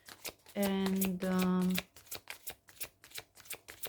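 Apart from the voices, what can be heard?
shuffling tarot cards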